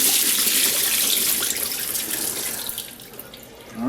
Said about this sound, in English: let that water drain off